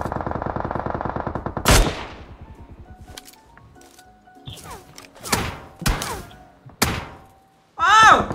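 Gunshots from a distant enemy in a shooting video game crack out in a few sharp, separated bursts, starting with a rapid rattling stream and then scattered single loud reports, with a brief voice near the end.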